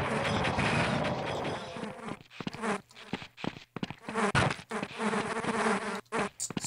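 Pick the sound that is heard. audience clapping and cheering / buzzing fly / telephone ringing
buzzing fly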